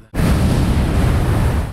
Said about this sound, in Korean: 거센 파도도 하나의 캐릭터로 되살아났습니다.